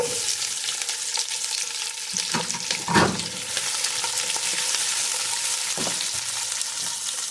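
Onion sautés in a pan with a continuous close sizzle, broken by a few scraping stirs and one louder clatter of a utensil, and no voices.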